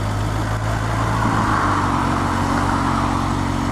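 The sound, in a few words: Kawasaki 2018 H2 SX SE motorcycle riding at low speed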